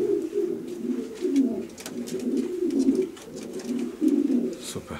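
Quality breeding pigeons cooing close by, repeated low throaty rolling calls in an uneven rhythm, with faint clicks and rustles around them.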